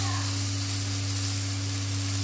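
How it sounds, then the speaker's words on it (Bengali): Boiled lentils hit hot fried spice paste in a pan, giving a steady loud sizzle and hiss with a low electrical hum underneath. "মশলাটা কষানো হয়ে গেছে, যে ডালটা সেদ্ধ করে রেখেছিলাম এটা দিয়ে দিচ্ছি।"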